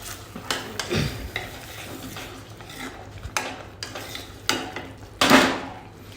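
Paneer being stirred and mixed in a pan for palak paneer: scraping spoon strokes and clinks against the cookware at an irregular pace, close by, with a few sharper knocks.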